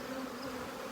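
Honeybees buzz in an open hive during an autumn brood-nest inspection, with capped brood and combs being backfilled with syrup; a steady, dense, close-up hum continues without pause.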